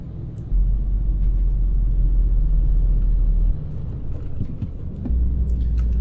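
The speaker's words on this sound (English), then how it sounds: "let's get on the freeway and listen to the bus" Paradiso LDT G7 coach bus in Euro Truck Simulator 2 cruising on a freeway, a loud steady low engine and road drone that dips briefly before resuming, with faint clicks over it.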